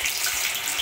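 Vada batter shaped into a ring drops into a kadhai of hot oil and sets off a steady, close hissing sizzle.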